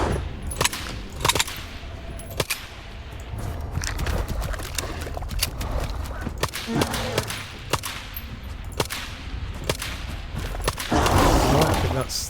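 Skiff's 9mm handgun firing in S.T.A.L.K.E.R. 2 during a bloodsucker fight, a steady series of sharp close shots spaced irregularly over dense game ambience, with a louder rush of effects near the end.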